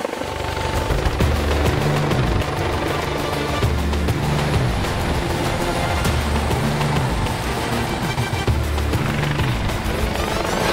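Air ambulance helicopter flying to a medical call, its rotor thumping in a steady loud pulse with a constant low engine drone throughout, no voices.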